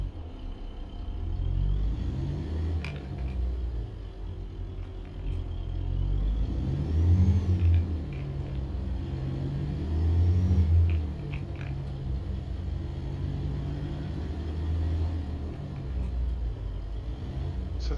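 A Peterbilt 359 truck hauling cattle in American Truck Simulator lugs in low gear, a deep steady engine drone that swells and strains in two heavy surges before settling back to a constant rumble.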